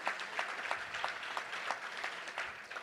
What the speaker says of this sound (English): A round of applause for all of our great sponsors.